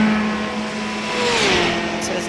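An LMP2 prototype race car at the 24 Hours of Le Mans passing close by, its engine whine sweeping downward in pitch as it goes past, loud over steady racing noise.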